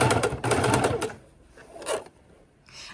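A sewing machine stitches bias binding in a fast, rhythmic run of needle clatter for about a second, then short quieter bursts and pauses, all close and without talk.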